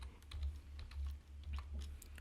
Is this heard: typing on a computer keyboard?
yes